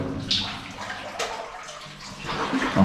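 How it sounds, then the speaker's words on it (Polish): Water runs and splashes steadily nearby in an old mine adit, a continuous wash with uneven surges and gurgles, no voices. "płynąca woda tworzy takie fale"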